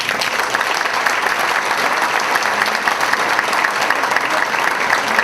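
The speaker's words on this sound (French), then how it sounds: "on les applaudit." A banquet crowd at a volunteers' evening breaks into loud, sustained applause, a thick continuous roar of clapping hands with no voices on top.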